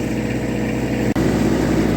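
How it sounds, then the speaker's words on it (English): A tractor engine warming up at idle before running a PTO wood chipper, up close, a loud even mechanical drone with one very brief dropout partway through. "Just gonna let the tractor warm up for a second."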